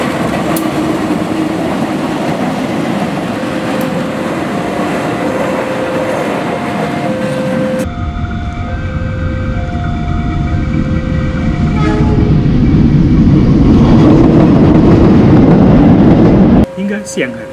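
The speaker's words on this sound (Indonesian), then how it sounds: "Beberapa kereta pengangkut rel pun dipersiapkan." A rail-carrying work train rolls past on the line near Rewulu station in Indonesia, a loud continuous rumble and clatter of wagons with repeated horn blasts and tonal squeals throughout.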